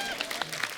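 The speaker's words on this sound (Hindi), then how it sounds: "तालियां" A crowd claps together in a burst of applause, dense and steady, with no one speaking over it.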